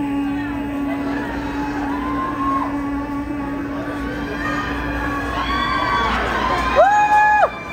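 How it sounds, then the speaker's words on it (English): A concert crowd at a live show in Seattle cheers and screams together, with a few individual voices yelling louder and higher toward the end. "So I need you to scream at least 50x what you normally scream at"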